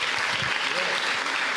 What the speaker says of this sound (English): I would like to give you all a warm applause for Sabri Saad El Hams.